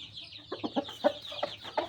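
A rooster clucks softly in a quick run of about six short calls, fairly quiet, over a steady high-pitched chirring in the background.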